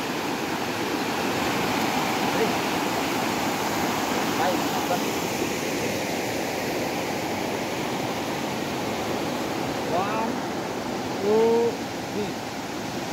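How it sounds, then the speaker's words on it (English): A mountain waterfall in Kampot, Cambodia roars as a steady, broad wash of falling water, with a brief faint chirp near the end. "এই সব হচ্ছে ঝর্ণার পানি।"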